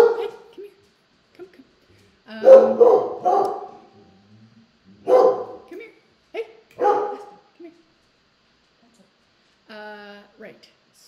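A dog barks in a few short bursts indoors, mixed in with someone talking nearby.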